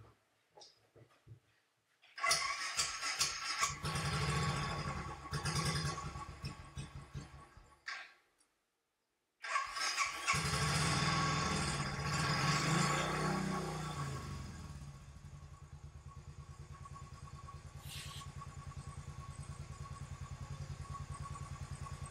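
Royal Enfield Bullet EFI motorcycle, a barn find, cranking and starting with a pause and restart, then settling into a steady, thumping idle that runs on evenly at close range.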